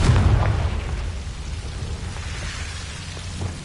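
A Confringo spell explosion in Hogwarts Legacy bursts loudly at the start, then fades into a long, rumbling, noisy tail with no speech.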